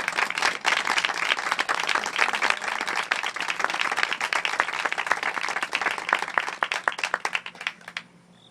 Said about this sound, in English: can we just give a round of applause so that they hear us up in heaven?